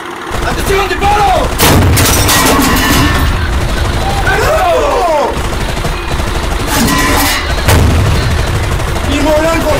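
Tank cannon fire from an Argentine armored unit in combat, heavy booming blasts loud and close, several shots across the stretch amid rumbling, with shouted commands throughout.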